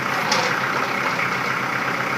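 A Kubota L4240HST-3 tractor idles nearby with an even, steady diesel drone and no change in speed, the sound running alone without any voices.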